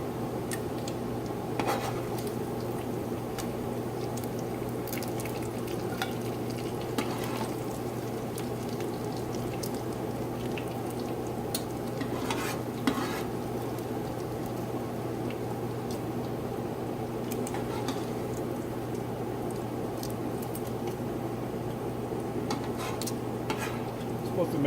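Sausage fries in a non-stick pot for shrimp and grits, giving a steady low sizzle with occasional clicks of a utensil stirring, close and even in loudness throughout, with no one talking.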